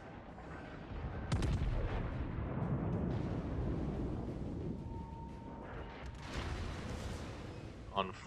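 The main guns of the battleship Missouri fire a broadside in World of Warships, giving a heavy booming blast followed by a long rumbling roar, with a few sharper later impacts and some background game sound.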